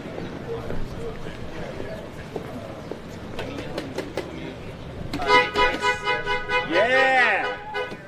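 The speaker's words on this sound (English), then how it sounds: "Get some honks." Car horns honk at a street demonstration next to a picket line, with several toots that swell into loud, overlapping blasts near the end, under people talking and cheering nearby.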